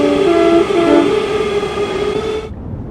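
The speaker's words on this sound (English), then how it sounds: "A little bit of depot whistle there for you." Depot whistle of a Class 395 Southeastern Highspeed train in Train Sim World 4, a loud sustained two-tone horn blast with a wavering pitch that cuts off abruptly near the end over running-train rumble.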